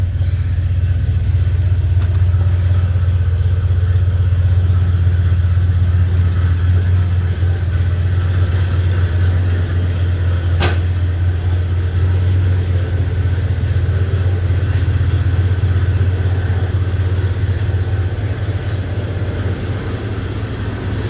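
A 1978 Chevy C10 truck engine idles steadily in cold weather in East Tennessee, a loud, close, continuous low rumble that holds even throughout with no talk over it.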